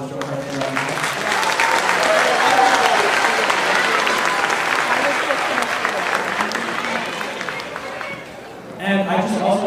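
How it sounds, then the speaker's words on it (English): An audience at a city choir concert gives the show choir a sustained round of loud, dense applause, with crowd voices mixed in. It fades briefly near the end before picking up again. "I think we should give a round of applause for the show choir."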